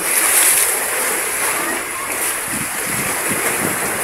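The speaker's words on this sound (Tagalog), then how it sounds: "naglalakihan ng mga alon" Large sea waves splash and surge in a steady broadband wash close by, with a few heavier splashes toward the end and faint bird calls high above.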